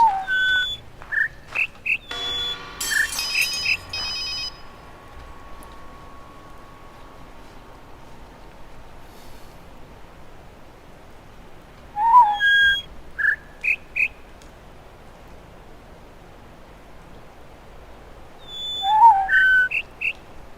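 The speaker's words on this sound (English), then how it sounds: "on this next one, they provide like an interfering sound on top of the bird notes" Short whistled bird notes in The Witness ring out in small clustered groups, clear and fairly close, with a brief harsh burst of interfering sound over one group and quiet gaps between the phrases.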